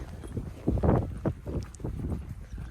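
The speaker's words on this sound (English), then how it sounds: "Riding a horse through the Mongolian wilderness." Horse hooves thud and clop at an uneven walking pace while riding through the Mongolian wilderness, with a soft steady outdoor background and no talking.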